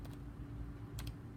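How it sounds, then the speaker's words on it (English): Someone typing a server name on a computer keyboard: a few quiet, quick key clicks, a single tap at the start and a tight pair near the end, over a low steady hum. "I'm gonna type the server name"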